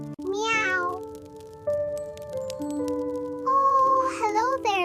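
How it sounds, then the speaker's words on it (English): A small kitten meows several times, high and drawn out, close and clear, with a short quieter stretch between the first cry and the later ones. "Meow."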